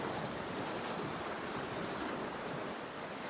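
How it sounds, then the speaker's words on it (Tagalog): Strong ocean surf crashing steadily at night during a fishing outing under moonlight, a continuous loud wash of waves with gusting wind buffeting the microphone throughout. "Lakas ng alon."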